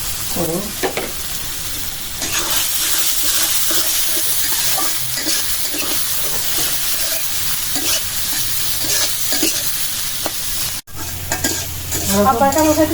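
Steady sizzling of fish frying in hot soybean oil, with stirring scrapes and clinks throughout, fairly loud and close, with no talking.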